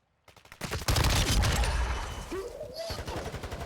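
Gunfire in Call of Duty: Modern Warfare II (2022) on a waterfront map: a loud burst of rapid automatic shots, dense and cracking, with rumbling booms and a brief rising tone before the rattling fire fades slightly.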